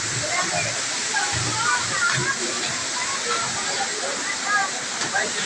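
Abbi Falls in Coorg, a waterfall roaring with a constant loud broadband rush of water, with people talking faintly beneath it.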